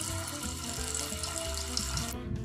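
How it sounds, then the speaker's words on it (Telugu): Chicken pieces frying in hot oil make a steady, dense sizzling hiss that runs unbroken and fairly loud from start to finish, with no voices over it. "కొంచెం ఆయిల్ హీట్ అయిన తర్వాత మనం చికెన్ పీసెస్ ఇందులో వేయచ్చు."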